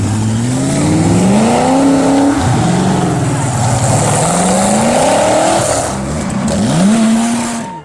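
Two cars accelerate hard, their engines revving up and dropping through repeated rising pitch sweeps, loud and close, with a tire-squeal edge over a steady roar.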